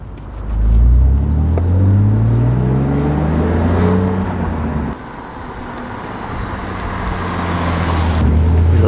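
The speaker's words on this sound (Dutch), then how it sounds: "Lekkere, vette, schorre brom." A BMW Z3 roadster engine gives a deep, hoarse, throaty rumble that swells with rising and falling harmonic revs, loud and close throughout with a brief dip midway, and no talking.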